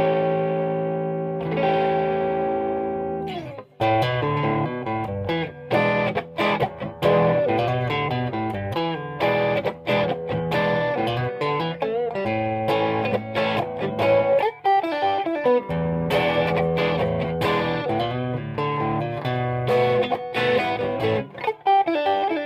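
Heavily distorted electric guitar through a Lovepedal Super Six SRV pedal playing loud chords and riffs, thick and saturated with a wash of effects, continuous for the whole stretch.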